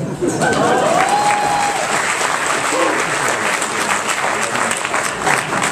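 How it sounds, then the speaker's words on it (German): A lecture audience at a science talk bursts into loud, sustained applause, a dense and even wash of clapping that lasts the whole stretch with faint voices underneath. "Ich finde das einen Applaus wert."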